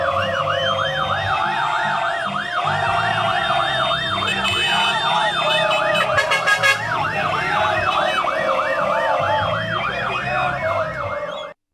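A fire truck siren wails loudly, cycling rapidly up and down without pause, close by, over the rumble of the vehicle engine during a street parade.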